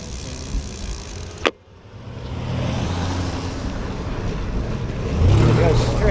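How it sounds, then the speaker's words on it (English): Garbage truck driving on a road on a rainy morning, heard as a broad rumbling engine and road noise that swells after a sharp knock, growing louder toward the end. "We'll go straight toward the garbage truck."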